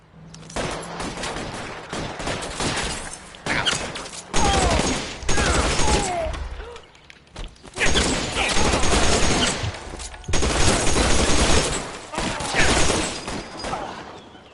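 Repeated bursts of gunfire crack through a shootout in the crime game L.A. Noire, loud volleys with short gaps and a few muffled shouted voices between them.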